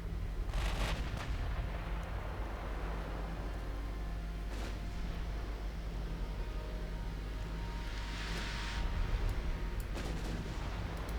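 Battleship main guns firing in the naval warfare game Ultimate Admiral Dreadnoughts, 16-inch shells against an Austrian battleship, as dull, deep booms over a constant low rumble, with a couple of louder blasts near the start and end.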